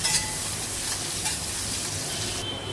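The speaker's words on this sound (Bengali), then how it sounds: "এবার পেঁয়াজটাকে আমি লাল করে ভেজে দেবো" Chopped onions frying in a hot pan until browned, giving a steady, close sizzle with occasional stirring scrapes throughout.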